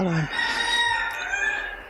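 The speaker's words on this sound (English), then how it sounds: "You can probably hear my chicken farm." Roosters crow loudly at a chicken farm in the early morning, one long cock-a-doodle-doo call close by with hens clucking faintly around it.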